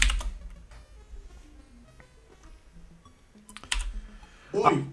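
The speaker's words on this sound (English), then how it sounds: "when I was typing it in" Typing on a computer keyboard at a desk, a scattered run of light clicks and key taps with brief pauses, growing louder in a couple of quick bursts toward the end.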